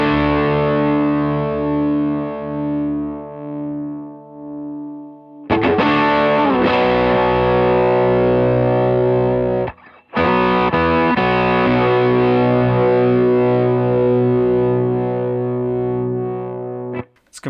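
Electric guitar with humbucker pickups played through a Cornerstone NERO fuzz pedal set to low compression for an overdrive-like tone, heard alone as loud sustained distorted chords and riffs with two short breaks.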